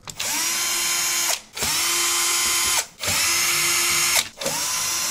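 An electric screwdriver backs screws out of a Micronics EH1 Mondrian PC case panel, sounding as four loud whirring bursts of near-equal length separated by short pauses. The motor pitch stays steady through each run, close up and with no voices.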